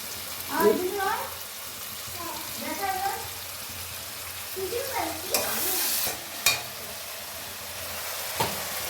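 A masala of ginger-garlic paste sizzles in a pan, heard close with stirring scrapes and sharp utensil knocks; a voice speaks intermittently over the frying.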